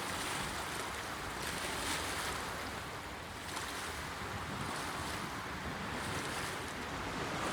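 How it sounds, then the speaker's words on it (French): Ocean waves wash in on a beach as a steady, rushing surf, with soft swells rising and falling every second or two under a constant wind-like hiss, heard faintly from a distance. "Petit homme regarde au loin l'écume blanche des vagues qui terminent à ses pieds leur long voyage."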